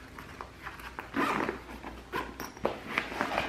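Quick rasping zipper pulls in short bursts, with soft handling rustles and taps between them, close by.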